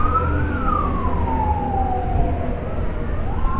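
A fire truck siren wails steadily in city traffic, a long sweeping tone over the rumble of nearby engines and road noise, fairly close and loud.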